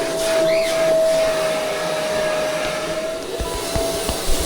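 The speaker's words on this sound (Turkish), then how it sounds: "Ben oraya süpürge makinesinin o ucunu sokuyorum." A continuous, steady whooshing roar of a vacuum cleaner nozzle sucking air inside a sofa storage compartment, loud and close, with a few dull knocks near the end.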